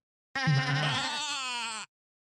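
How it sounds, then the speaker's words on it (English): A goat bleat plays from a sound button, one loud, wavering, nasal cry that rises and holds, then cuts off abruptly, heard alone with no talk. "Could you hit the goat button for me?"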